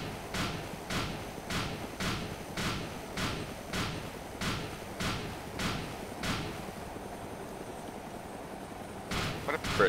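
Rapid rhythmic gunfire from ArmA 2 (Overpoch mod), a steady run of about ten evenly spaced loud shots, then a brief pause and a couple more bursts near the end, over a low rumbling game background.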